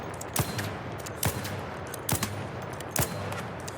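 Anvil gun in ARC Raiders fired from the hip, four sharp single shots at a slow, even pace over a low ambient bed.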